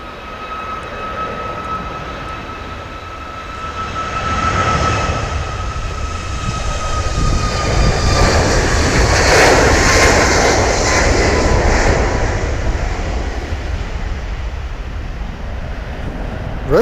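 An airplane takes off from Manchester, its engine roar building steadily to a loud, sustained rumble with high whining tones, heard close and alone without talk.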